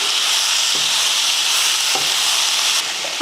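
Tomato with mint, coriander and curry leaves sautéing loudly in a pan for chutney, a steady close sizzle with a few faint stirring knocks, no voices.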